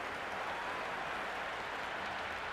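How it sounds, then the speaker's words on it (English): A steady wash of crowd applause and cheering fills a stadium during a Pakistan vs Zimbabwe T20 match in a cricket video game, dense and even throughout, with no distinct voices. "It's evident and ever so audible that the crowd is at near bursting point at today's play."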